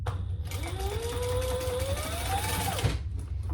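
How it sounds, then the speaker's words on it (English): A sewing machine basting a stitch on a wallet tab runs steadily for over two seconds with a whirring motor tone that rises in pitch, then stops, with low background hum throughout. "we're going to stitch that, baste it actually"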